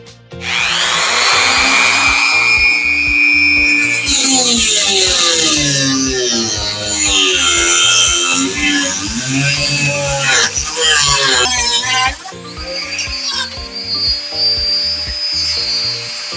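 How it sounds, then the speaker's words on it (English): A Dremel rotary tool cuts a part for a QFH antenna, loud and close, its high whine rising and dropping as the bit bites into the material, with short pauses and restarts. "for this I'm going to use the Dremel."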